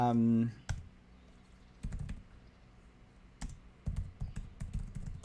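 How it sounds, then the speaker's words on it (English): Rapid bursts of clicks from a computer keyboard as a name is typed into an online trivia game, coming in uneven clusters after a short voice at the start. "I'm typing my name in"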